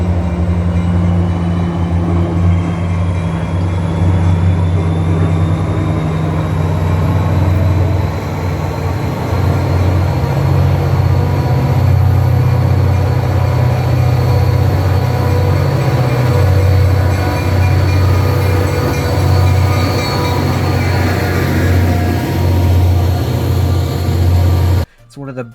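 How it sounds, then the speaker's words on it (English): An NJ Transit diesel locomotive's prime mover at notch 8 throbs with a deep, steady, loud drone that continues for over twenty seconds before cutting off abruptly. "I just love the sound of its prime mover at notch 8"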